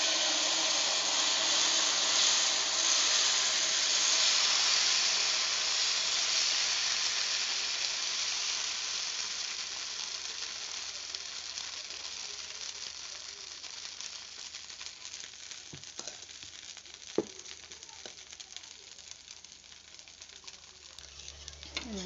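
Dosa frying in oil on a hot tawa gives a steady, close sizzling hiss that fades slowly over time, with a few sharp clicks near the end.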